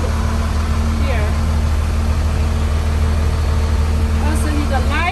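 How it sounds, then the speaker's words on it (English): A vehicle engine idles steadily and loudly right after starting, a constant low rumble with a steady hum, while a person speaks over it. "Now let's start the engine here. Engine is started."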